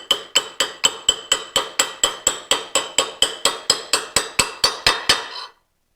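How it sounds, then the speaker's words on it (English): An aluminum shaft pounds a roller into a Ski-Doo QRS clutch with about twenty evenly spaced, ringing metallic hammer blows in a steady rhythm, close and loud, then stops abruptly. "pound that as far in as I can go with that, and then punch it all the way in with that"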